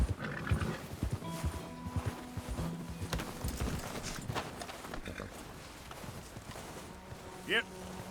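Horse hooves clip-clopping in Red Dead Redemption 2, a run of close hoof thuds in a snowy setting, followed by a short whinny near the end, with someone talking over it.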